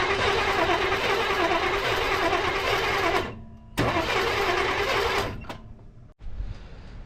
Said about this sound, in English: So I couldn't get the truck to start.